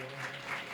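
A brief burst of applause from a crowd at a temple anniversary worship ceremony, dense clapping held at steady moderate loudness for under a second.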